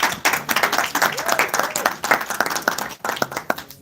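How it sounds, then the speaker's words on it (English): Conference audience at an African engineering week event applauding, a dense burst of many hands clapping that holds steady for a few seconds before thinning out. "Let's give them a round of applause, please."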